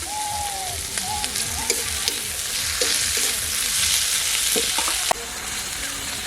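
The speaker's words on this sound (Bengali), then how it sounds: "আদা রসুন পেঁয়াজ ভাজা ভাজা হয়ে গেছে" Ginger, garlic and chopped onion fry noisily in a pan, a loud steady sizzle with scraping stirs and clinks of a utensil against the metal, heard alone and up close.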